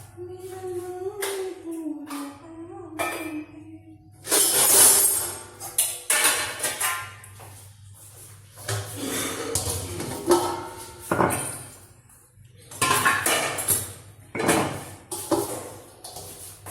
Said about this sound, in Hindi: ये बर्तन है, मैं स्टैंड में लगा दूंगी फटाफट।